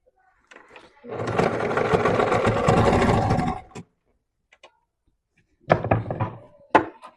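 A sewing machine runs a seam close beside an existing line of stitching in one steady burst of about two and a half seconds, followed by quieter handling knocks and short thumps nearby.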